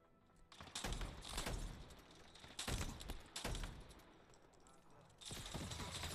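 Shotgun fire in a Halo match, several heavy blasts in quick bursts with pauses between them, loud and close, plus some muffled clatter.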